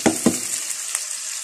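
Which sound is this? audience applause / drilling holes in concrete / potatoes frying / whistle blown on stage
potatoes frying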